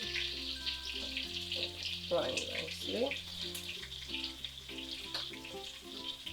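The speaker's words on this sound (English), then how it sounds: "As you can see, it's frying nicely." Steady sizzling of lamb frying in a pan for Ghanaian spinach stew, a constant crackling hiss throughout, with a low steady hum underneath.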